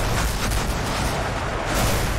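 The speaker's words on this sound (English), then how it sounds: "Lots of gunfire in the air." Dense, continuous video game battle noise with overlapping gunfire and booming blasts from catapults and Sherman tanks, loud and unbroken throughout.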